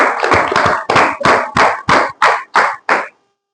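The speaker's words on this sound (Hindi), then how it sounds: "सर के लिए मैं चाहूंगा एक बार पुनः तालियां हो जाएं।" A short burst of clapping from an audience at a business presentation, about ten sharp, rhythmic claps that end abruptly, loud and close.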